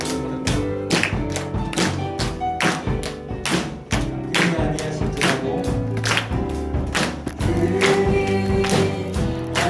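Church congregation clapping together in steady rhythm during a youth worship service, loud sharp claps repeating throughout over music.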